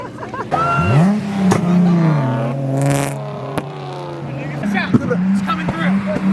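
Cars leaving a car show in the rain, one with a burble exhaust tune roaring loudly past and accelerating away, followed by sharp pops and crackles, with excited voices of onlookers over it.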